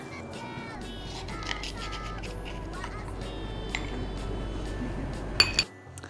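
Pudding ingredients stirred together in a pot, with steady clinking of a utensil against the metal pot and a few brighter knocks near the end before it stops.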